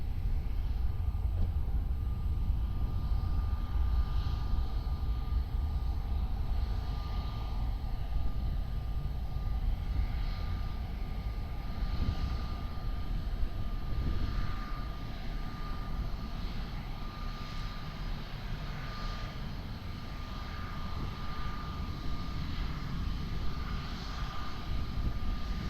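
Airliner landing on runway 20 at Lisbon Airport, a steady broad engine roar heard from a distance that holds level throughout with a faint constant hum beneath, slowly easing toward the end.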